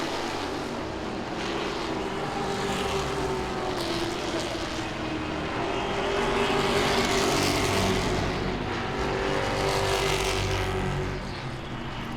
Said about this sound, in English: They continue to battle it out. Ricky Derrick trying to get to the inside of that 19 to make the pass for the second spot.